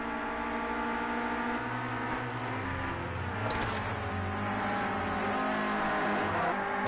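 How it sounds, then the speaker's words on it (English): A Renault Clio Cup race car engine screams in Project CARS 2 racing, a steady high-pitched drone with gear changes and a brief swell midway as revs climb, heard alone. "Scott McFall will be screaming at his little Clio Cup car to keep going"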